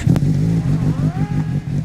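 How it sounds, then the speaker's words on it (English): A motorcycle engine in the video game Vehicle Legends revs steadily, a low droning hum with rising pitch sweeps, loud and close throughout with no talking. "That's a motorcycle."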